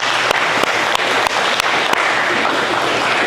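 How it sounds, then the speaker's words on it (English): Audience applause fills the room after a speaker's request, a dense, steady wash of many hands clapping at close range, with a few sharper claps standing out. "Give her a round of applause,"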